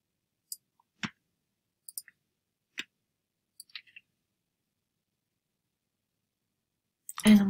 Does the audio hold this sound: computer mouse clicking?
yes